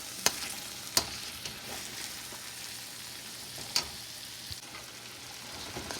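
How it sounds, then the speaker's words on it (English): Spices and onion sizzle in oil for a chicken thigh curry, with a soft continuous hiss broken by a few sharp clanks and scrapes of a stirring utensil against the pan. "When the oil starts coming up or oozing out, that means our spices are fried well."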